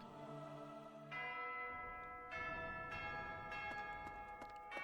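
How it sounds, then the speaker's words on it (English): A church bell rings in the Fire Emblem Three Houses video game, several resonant strikes spaced a second or so apart, each leaving a long shimmering hum, heard fairly faintly against a soft background with no talk. "The Fire Emblem bell is ringing."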